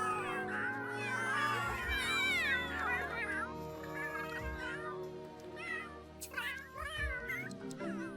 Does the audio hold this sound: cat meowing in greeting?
yes